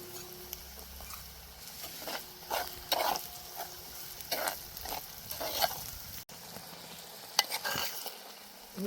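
Chopped onions fry quietly in a pan, a soft sizzle with intermittent stirring scrapes and taps spread across the stretch.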